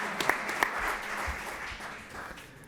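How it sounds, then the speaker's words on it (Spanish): Scattered applause for writer Virginia Feito, a few sharp claps at the start and then a soft, thin patter from a modest audience that fades toward the end. "yo creo que Virginia se merece un aplauso"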